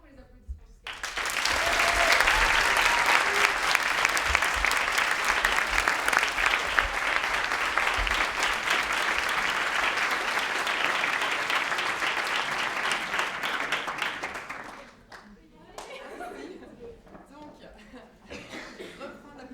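An audience applauds the organisers of a gathering, with sustained dense clapping for about thirteen seconds, then a sudden drop to scattered claps, murmurs and a cough.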